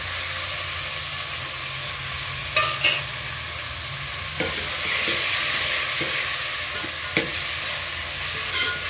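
Dried red chillies fry in hot oil for a tempering on a strong flame while a Bagara rice dish is made, giving a steady close sizzle and hiss, with a few clinks and stirring knocks against the pan.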